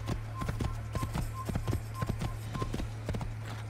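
Horse hooves galloping in the Assassin's Creed video game, a steady rapid clip-clop rhythm throughout with a low continuous hum beneath and faint game tones.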